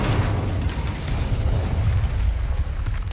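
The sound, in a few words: Incendio fire spell cast in the video game Hogwarts Legacy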